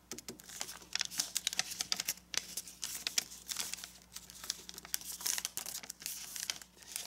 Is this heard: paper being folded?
yes